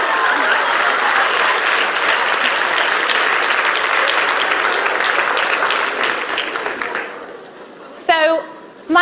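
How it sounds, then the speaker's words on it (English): An audience gives a big round of applause for a volunteer at a team session. The clapping is loud and sustained for about seven seconds, then thins out and fades before a voice comes in. "Big round of applause."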